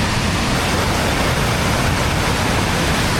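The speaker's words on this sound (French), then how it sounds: "Il y a une espèce de seuil juste derrière, une énorme cascade interdite à la navigation" Rushing water from a large weir and waterfall on the Rhône, a loud, dense, unbroken roar of churning water heard close by, steady with no pauses and no voices.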